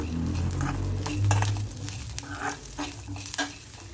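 Garlic cloves fry in a pan for a bitter gourd curry, giving a close, soft sizzle. Scraping stirs and light clinks of a utensil against the pan break in at intervals, with no talk.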